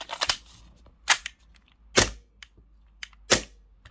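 A Gen 4 magazine is snapped into a Tokyo Marui Gen 3 Glock airsoft pistol, producing four or five sharp, close plastic-and-metal clacks spaced about a second apart.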